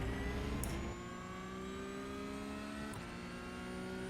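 Porsche Cup race car in iRacing at Hockenheim accelerating flat out, a steady loud engine drone with rising harmonic pitch, one brief shift blip near the start and another midway, no talk.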